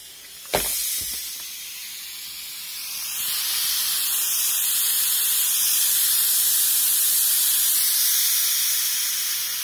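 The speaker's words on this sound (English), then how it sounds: "And you can hear the motor there. I'll be quiet a second so you can hear it. Pumping the steam out there." A Black and Decker FSM1605 steam mop runs alone: after a brief click, a steady broadband hiss of steam builds and holds evenly at close range, with the small pump motor humming underneath.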